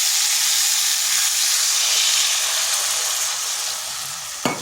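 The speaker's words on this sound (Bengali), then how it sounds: "এরপর দিয়ে দেবো জল।" Water poured into a hot pan of cauliflower curry sets off a loud, steady sizzle and hiss that holds for several seconds, easing slightly near the end before a brief clatter.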